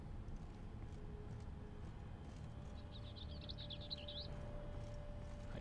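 A small bird chirps in a quick, twittering burst of about a second and a half within a Witcher video game scene, faint above a steady low ambient hum with no one talking.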